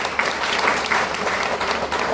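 A large audience claps loudly and steadily for a company founder and chief executive at a DXN product presentation, a dense, continuous burst of applause lasting about two seconds.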